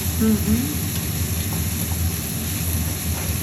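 Butter sizzles steadily in a hot pan, a constant bright hiss with small crackles, and a faint voice is briefly heard at the start.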